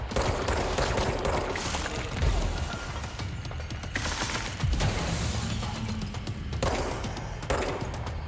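Dense, continuous gunfire aimed at an enemy in the video game Control, sustained bursts and booms layered over a loud roaring background with no pauses, no speech.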